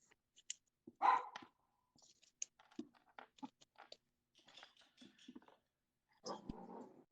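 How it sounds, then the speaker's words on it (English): A dog gives a few sharp barks close by in an otherwise quiet indoor room, with scattered clicks and small handling noises between them. "my dog is gonna bark"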